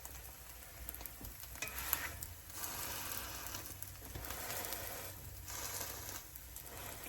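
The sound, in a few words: butter sizzling with bread in a cast iron pan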